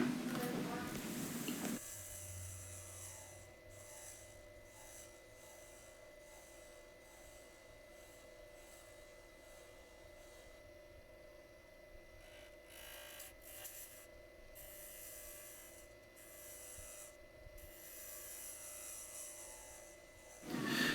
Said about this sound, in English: I'm using the spindle gouge here just to create a bit of shape on the end, truing up the end and creating a taper